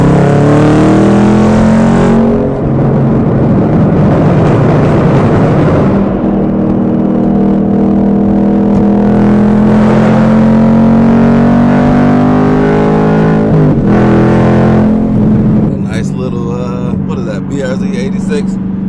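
Chevrolet Camaro ZL1 driving in morning traffic, its engine droning loud and steady with exhaust pops crackling near the end, while someone talks over it.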